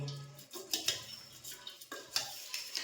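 Khichdi ingredients with tender valor beans get stirred in a pot, a spoon scraping and clinking against the metal in uneven strokes, close but fairly quiet, with no talk.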